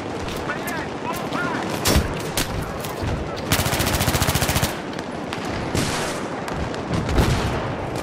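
An M60 machine gun fires in a video game in sustained rapid bursts, the rattling volleys close and loud with one dense stretch of continuous fire midway, while players talk over the shooting.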